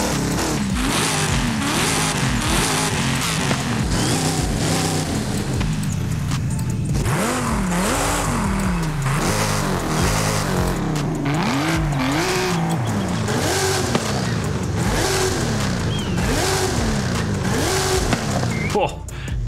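A 7-litre V8 in a Forza Horizon 5 car revs hard and steadily for the whole stretch, the engine note repeatedly climbing and falling through loud, continuous blips.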